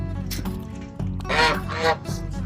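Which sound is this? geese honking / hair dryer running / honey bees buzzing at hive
geese honking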